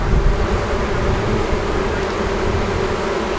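Dense swarm of honey bees buzzing at an open hive during a honey harvest with smoke in use, a loud continuous drone close by with no voices.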